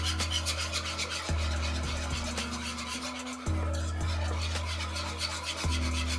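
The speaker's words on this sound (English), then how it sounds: "And at this point you want to whisk it in, okay?" A whisk scrapes and rasps rhythmically around a pan as flour is worked into a creamy white sauce, close and fairly loud over a steady low hum.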